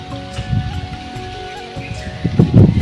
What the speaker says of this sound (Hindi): हवा चलत बने छत में